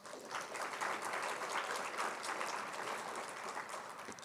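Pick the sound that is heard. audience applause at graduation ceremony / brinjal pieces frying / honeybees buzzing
audience applause at graduation ceremony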